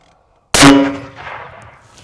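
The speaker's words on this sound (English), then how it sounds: "This is a 50 cal against 4 mud tires" A .50 caliber rifle round slams into a stack of four mud tires, one sharp loud crack with a metallic clang, then a fading ring and rumble.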